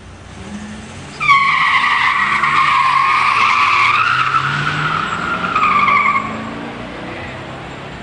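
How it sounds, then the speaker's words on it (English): A 1987 Buick Grand National and a 1973 Buick Grand Sport 455 four-speed launch side by side at a pure stock drag race, with loud tire squeal and roaring engines that rise and sweep past before fading. "In the near lane, Denise Barnes in an 87 Grand National. In the far lane, John Penzone in a 73 Grand Sport 455 4-speed"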